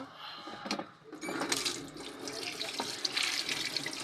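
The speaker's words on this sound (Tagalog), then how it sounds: "Hugasan ko lang to." Tap water running into a kitchen sink while something is washed under it during cooking, a close steady splashing hiss with small clinks and shifting splashes.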